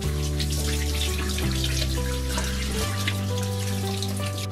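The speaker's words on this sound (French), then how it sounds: "Je plonge pour rincer." Water runs and splashes at a bathroom sink while a face is rinsed, a steady close stream with shifting tonal gurgle and small splashes throughout, no voices.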